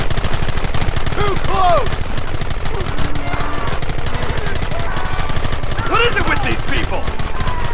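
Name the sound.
gunfire in Red Dead Redemption video game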